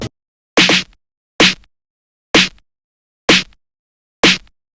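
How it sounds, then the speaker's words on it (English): A snare drum sample from a phonk beat plays alone as five or six evenly spaced, punchy hits, about one per second, each with a crisp crack and a short tail, over total silence between strikes. "Next up is the snare."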